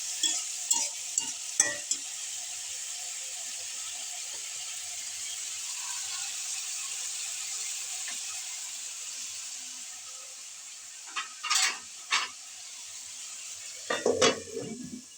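Potatoes frying in a karahi: a continuous close sizzle of oil runs throughout, broken by scattered scrapes and clatters of a utensil stirring in the pan, with a cluster of louder knocks near the end.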